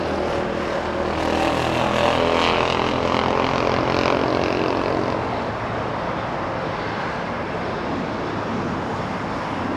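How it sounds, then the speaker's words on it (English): A Boeing 747 arriving at Los Angeles International Airport makes a broad, steady roar that swells briefly and then holds at a loud level, with a hint of wind noise. "I thought we had two back-to-back 747s arriving"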